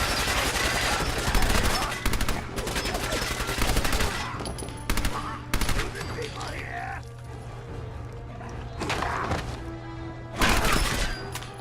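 Gunfire from the video game Fallout 4 comes in repeated rapid bursts and single cracks, fairly loud, while a person talks over the action.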